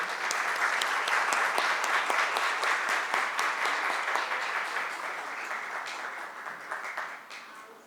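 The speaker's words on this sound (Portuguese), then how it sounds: "Nossos aplausos, Carmen Frota." An audience at a ceremonial event gives sustained, even applause for Carmen Frota, dense clapping that runs for several seconds and gradually fades.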